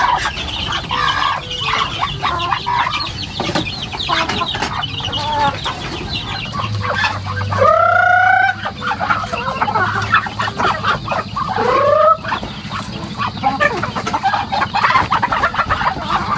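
Chickens cluck and squawk close by, with a rooster-like call rising in the middle, over steady background noise and occasional Filipino voices.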